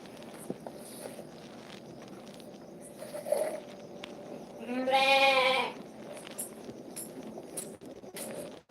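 A goat on a goat farm gives one clear, fairly close bleat lasting under a second, plus a shorter call earlier, over low ambient farm noise and faint footsteps.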